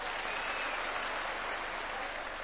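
A crowd applauding Deputy President Kithure Kindiki at a public event, continuous dense clapping at an even level throughout, with no speech over it.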